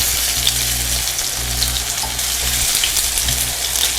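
Zucchini flowers pan-frying in oil on high heat give a steady, close, dense sizzle and crackle throughout, with a faint low hum underneath.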